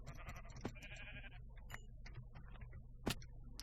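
Blocky Minecraft sheep give a couple of wavering bleats over a low humming game backdrop, mixed with sharp clicks and taps from gameplay.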